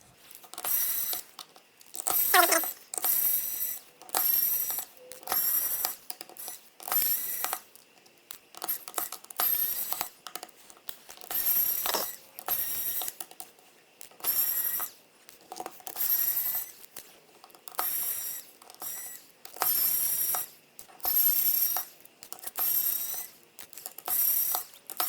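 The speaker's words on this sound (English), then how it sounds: "let's grab our handy dandy screwdriver and get to taking out some screws" A small screwdriver backs screws out of an HMD Vibe phone during a teardown, producing repeated short bursts of fine ratcheting clicks and scraping at close range, separated by brief pauses, with no talking.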